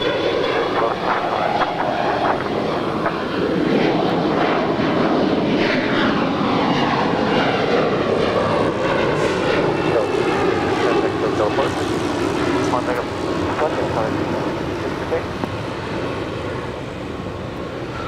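An Air Tahiti Nui heavy jet crosses runway 25 right at Los Angeles International Airport, its engines giving a loud, sustained roar that swells and then slowly eases, with radio or commentary voices mixed in.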